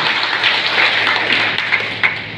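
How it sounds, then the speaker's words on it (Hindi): Crowd applause at a political rally, a dense continuous patter of clapping with a few sharper claps standing out, loud and close throughout. "जोर से ताली बजाइए"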